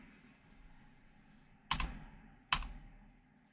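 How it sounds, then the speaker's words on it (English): Two sharp, close clicks of a computer mouse being right-clicked, spaced under a second apart over a faint quiet background. "so you can see I'm right clicking to try and get on that"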